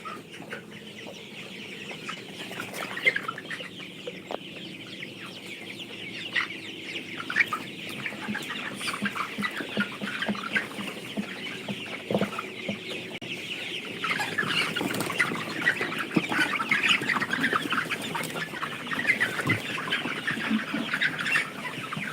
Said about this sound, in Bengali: মুরগিগুলো দেখাচ্ছি আপনাদেরকে